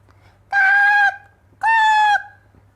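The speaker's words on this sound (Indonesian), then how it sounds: "ada burung gagak" Two drawn-out crow caws used as a sound effect in a children's storytelling, loud and close, each about half a second long with a short pause between them.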